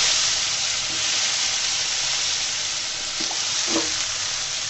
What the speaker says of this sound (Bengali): বেগুনটাকেও আমি ভেজে নিব